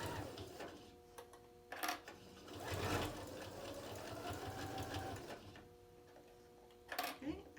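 A home sewing machine stitches a fabric bin, whirring steadily with short back-stitch bursts and pauses, close and moderately quiet, with a voice talking over it at times.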